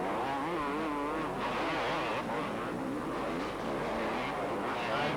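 250cc and 500cc motocross motorcycles racing at a 1991 open championship event: a dense, fairly faint roar of several engines revving and shifting pitch in waves, heard from a distance with crowd-like background noise.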